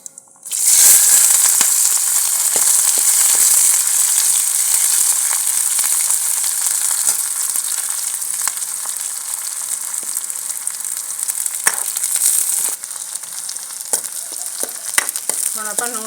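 Garlic, onion and green chilies sizzle loudly in a pan for a village-style mixed vegetable sabji, a constant hissing fry with occasional stirring scrapes and clinks, with no one talking.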